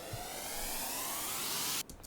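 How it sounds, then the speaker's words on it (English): A warp speed effect from Logic's Apple Loops library, a rising whooshing noise sweep that swells steadily for about two seconds before cutting off abruptly, played alone. "One is just a warp speed effect 11,"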